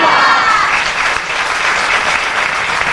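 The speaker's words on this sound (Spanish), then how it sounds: "que el aplauso más grande de la noche sea para ella" Loud applause fills a hall at the Fiestas del Pilar proclamation event at the Centro Aragonés, with a large audience clapping steadily and faint cheering mixed in, sustained and dense from start to finish.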